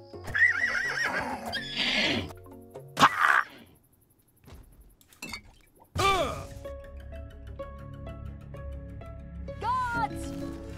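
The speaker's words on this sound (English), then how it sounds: "this is the Legionnaire's horse" A Legionnaire's horse in the video game Oblivion whinnies several times, each neigh rising and falling, with game hoofbeats, effects and a talking voice around it.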